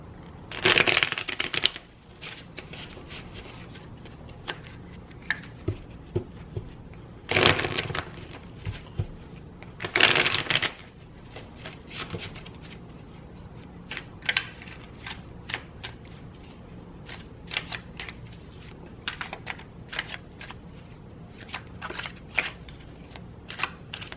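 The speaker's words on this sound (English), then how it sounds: "I'm going to shuffle the cards in front of the camera" Cards are riffle-shuffled up close in a few loud bursts, with softer snaps and taps of handling the deck in between.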